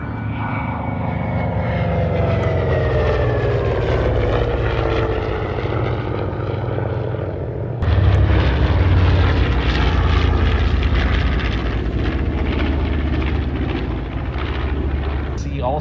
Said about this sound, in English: Also the Grumman Hellcat, an airplane that ultimately went on to replace the Grumman